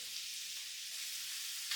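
Onions and jalapeño peppers sauté in a pan for stuffed quahogs, giving a steady, even sizzle that stays close and constant, with a slight rise in crackle near the end and no talking.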